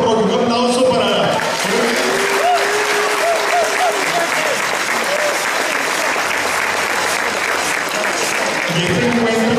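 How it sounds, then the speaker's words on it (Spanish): Audience applause at a church choir concert for a parish centennial celebration, sustained dense clapping throughout, with voices, whistles and cheers rising over it. "Un aplauso para..."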